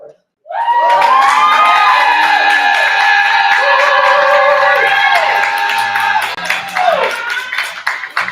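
Loud crowd at a Berkeley poetry slam erupts in sustained cheering, whooping and shouting with clapping mixed in, filling the room close-up for the whole stretch before tapering slightly at the end.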